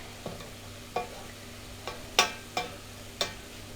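Garlic from a jar stirs around a frying pan, with a faint sizzle beneath a handful of sharp spatula clacks and scrapes spaced irregularly across a few seconds.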